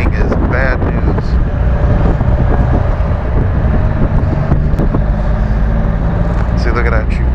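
A 2014 Can-Am Spyder RT three-wheeled motorcycle out on the road, its engine droning steadily under heavy wind buffeting against the microphone, loud and continuous, with someone talking over the ride.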